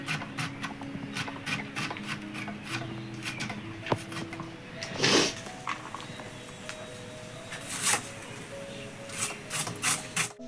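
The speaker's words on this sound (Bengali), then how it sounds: "পেঁয়াজটা একটু কেটে নিচ্ছি" A knife cuts an onion into thin slices on a board for a Bengali chicken and pulao dish, giving a series of short scraping, rubbing strokes and a few sharper chops at close range, with no talk.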